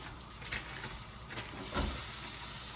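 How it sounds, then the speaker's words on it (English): Quiet, steady sizzling of a pound of ground beef browning in a pan, with occasional soft scraping stirs and crackles, heard up close without speech. "I'll add my ground beef in and brown it"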